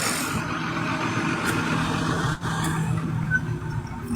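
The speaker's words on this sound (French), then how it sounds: "C'est quel deux camions, ça, là? Faut passer ici." Trucks rumbling past on a road, a dense continuous engine and tyre roar with a brief hiss like an air brake, close and loud, with no talk over it.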